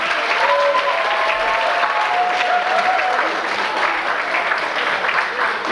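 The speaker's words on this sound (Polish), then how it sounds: "wielkie brawa dla jury" Sustained applause from a festival audience for the jury at a religious song festival in a hall, steady dense clapping throughout with faint tonal feedback hum under it.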